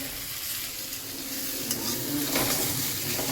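Paneer is added to a frying pan and stirred, producing a steady sizzle with scraping and stirring noises and a few light clinks of a utensil against the pan, all close and without speech.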